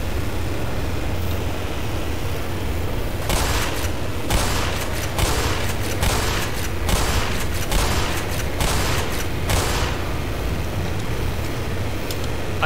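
Weapon fire in the game Black Mesa, a loud sustained burst of rapid shots over a steady rumbling background, sounding close and continuous for several seconds with no voices.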